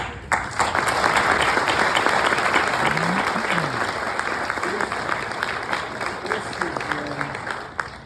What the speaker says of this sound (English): can we please just have another round of applause for all of the awardees?